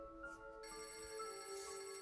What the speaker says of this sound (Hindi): पर थोड़ी देर बाद ही फिर से उसका फ़ोन बज उठा